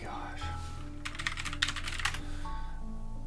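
Mechanical, typewriter-style computer keyboard being typed on in a short burst of crisp clacking keystrokes, close and fairly loud over a steady low hum, with a brief pause before the final few taps.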